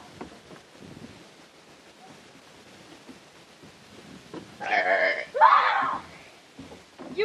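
A child doing a playful burping act gives one loud, drawn-out burp followed by a second rough burp, after a stretch of quiet rustling and faint background voices.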